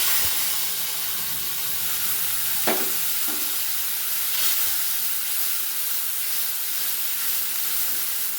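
Ginger and green chili paste sizzles steadily in a hot pan while making a paneer dish, a continuous close frying hiss broken by a few soft stirring scrapes.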